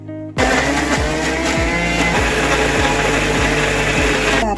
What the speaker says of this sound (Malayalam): വെള്ളം ഒഴിക്കാതെ അരച്ചെടുത്ത് കൊണ്ടുവരണം